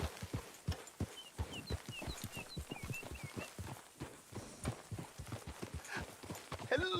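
Hooves of a horse clip-clop in a steady walking rhythm in the video game Red Dead Redemption 2, close and clear throughout, with a few bird chirps in the background.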